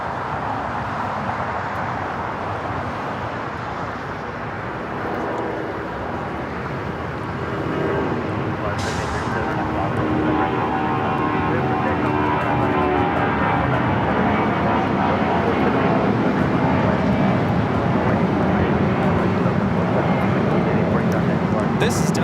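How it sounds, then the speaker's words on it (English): A Delta Airlines Boeing 757-200 takes off at LAX, a broad steady jet roar that swells and stays loud throughout, with people talking over it at an outdoor airport. "This is Delta Airlines 8840 taking off to Las Vegas on the 757-200."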